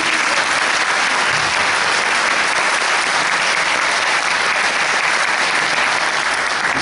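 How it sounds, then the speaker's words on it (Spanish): Loud, sustained applause from a concert audience at a cathedral choir performance, a thick, even roar of many hands clapping close by for several seconds without talk. "un aplauso para el"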